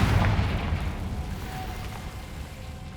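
A Confringo fire spell blasts in Hogwarts Legacy, a deep booming explosion at the start that rumbles on and slowly fades across the clip, with no voices.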